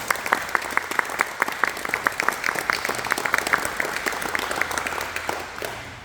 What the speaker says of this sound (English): So if we get a big round of applause for those folks.